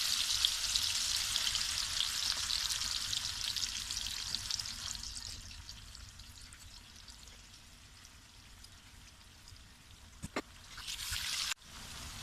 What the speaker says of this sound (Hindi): इसी तरह मैं तमाम चिकन को फ्राई कर लूँगी